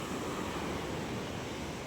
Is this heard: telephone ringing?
no